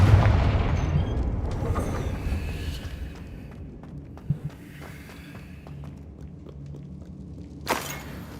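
In Hogwarts Legacy, the Confringo blasting spell goes off in a heavy booming explosion with a long rumbling tail, a few scattered impacts, and a sharp burst near the end.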